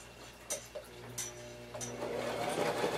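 Sewing machine back-stitching across a handbag pocket, a fast whirring, ticking run close up, with a few sharp clicks before the stitching speeds into a steady buzz.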